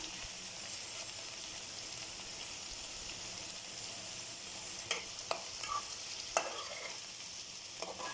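Okra, or ladies' finger, fries in a pan with a faint, steady sizzle, and in the second half a few quiet scrapes and taps from stirring break through.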